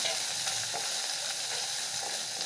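Chopped onion and curry leaves fry in a pan for a beans poriyal, giving a close, continuous sizzle with faint stirring scrapes and no talking.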